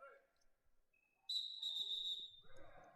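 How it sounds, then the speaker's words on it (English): A referee's whistle at a high school wrestling triangular gives one long, shrill blast partway through, loud against the gym, with a commentator talking before and after it. "So we get a whistle there right at the beginning."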